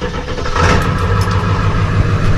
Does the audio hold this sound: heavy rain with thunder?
no